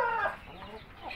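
An Indio Gigante hen clucks nearby, a couple of short throaty calls followed by softer murmuring clucks, fairly quiet.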